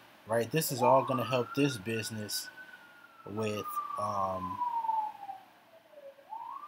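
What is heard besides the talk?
sirens in the background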